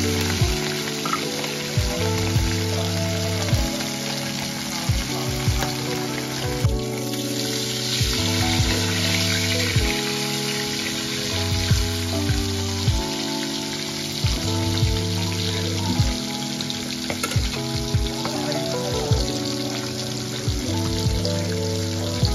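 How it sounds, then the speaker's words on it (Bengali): Hilsa fish frying in oil for dinner, a continuous bright sizzle heard beneath prominent, rhythmic background music that runs throughout, with no voices. "মা ওর জন্য ইলিশ মাছই ভেজে দিচ্ছিল।"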